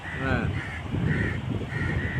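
Crows caw repeatedly at a place where peacocks also roam, several harsh calls in a loose rhythm at moderate distance over wind and background murmur.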